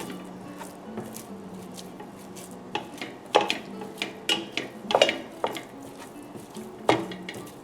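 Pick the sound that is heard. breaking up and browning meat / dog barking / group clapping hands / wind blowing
breaking up and browning meat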